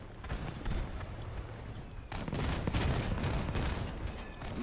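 Cannon fire in the vehicle combat game Crossout comes as a dense run of booming shots over constant engine rumble and clatter, getting louder and heavier partway through.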